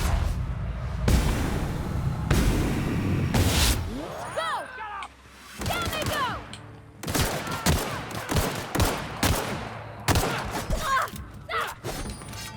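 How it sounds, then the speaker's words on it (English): Mortar fire and combat in the video game The Outer Worlds, with heavy thuds and booming blasts, rattling gunfire bursts and mechanical clanks, loud and layered. Other game sounds and voices are mixed in. "Oh, mortars."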